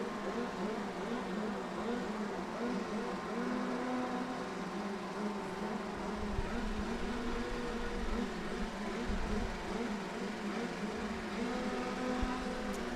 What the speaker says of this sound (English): I hear some motors starting